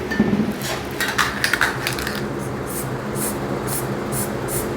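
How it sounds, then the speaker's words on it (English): Several short hissing bursts from a spray paint can, close up and fairly quiet, with faint clinks at the start. "Just spraying a little bit of white onto the thingy-majiggy."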